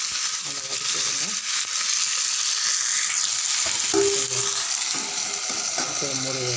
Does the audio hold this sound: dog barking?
no